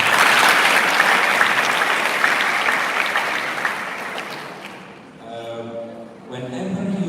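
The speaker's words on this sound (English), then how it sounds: "give them a big applause." Audience applause for four participants at an academic and social activist dialogue event, a loud sustained ovation that fades toward the end as a voice begins speaking over it.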